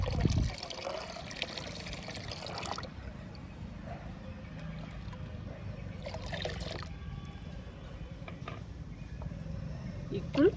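Water pours into a 10-litre bucket to dilute a dark coffee-powder liquid, making a continuous rushing, splashing fill sound with a few brief clatters and knocks.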